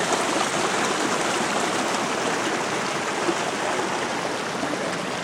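Water rushes steadily over the top of the falls on Devonport Creek, a loud, even roar of spray and tumbling flow that holds without pause.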